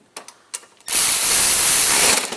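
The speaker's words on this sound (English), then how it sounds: "instead of doing it by hand, I'm just going to turn it by hand with my socket" A socket wrench ratchet turning a Craftsman Gold lawn mower engine by hand gives a few quick clicks, followed by a sustained loud, bright whirring rasp as the engine spins close to the microphone.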